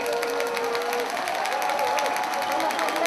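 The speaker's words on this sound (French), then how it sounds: "Supporters de la Martinique, applaudissez bien fort votre équipe." Football supporters of Martinique cheer and applaud during a Coupe de l'Outre-Mer final against Réunion, a steady, fairly distant stadium roar with clapping and shouts that holds an even level.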